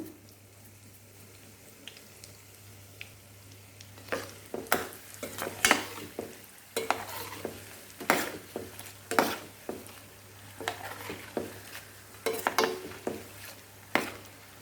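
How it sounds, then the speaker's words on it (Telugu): Curry leaves and asafoetida sizzle in tempering oil for a gooseberry pickle, a low frying hiss broken by repeated clinks and scrapes of a spoon stirring in the pan. "అవి కాస్త వేగిన తర్వాత కరివేపాకు కొంచెం ఇంగువ కూడా వేస్తున్నాను"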